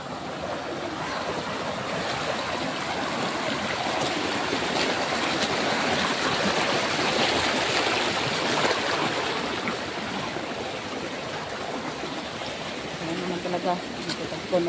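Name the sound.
flowing stream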